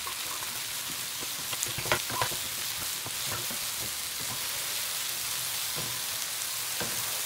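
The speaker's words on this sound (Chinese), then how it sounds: "稍微拌炒一下" Chicken and shiitake mushrooms stir-frying in hot sesame oil, a steady rain-like sizzle throughout, with a few brief scrapes and clacks of stirring near the start, close and continuous.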